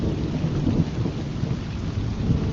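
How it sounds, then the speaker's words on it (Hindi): Heavy rain pours steadily while low thunder rumbles through it, a dense continuous storm wash with no voices. "आसमान काला हुआ, बिजली कड़की और मूसलाधार बारिश हुई।"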